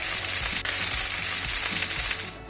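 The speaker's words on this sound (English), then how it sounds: "those are up to a really good sizzle" Duck breast sizzles over a hot bed of embers in a wood-fired oven, a steady, dense crackling hiss with small pops, fairly faint and close, with no talking.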